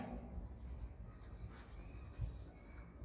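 Chalk or marker scratching on a board during a maths lesson on fractions, steady and close with faint room noise throughout, no clear talk over it.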